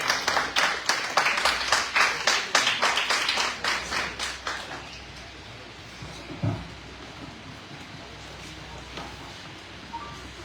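School audience at a Kartar Public School poetry recitation competition clapping to welcome the principal, loud rhythmic claps for about five seconds that then fade into quieter scattered noise and room ambience.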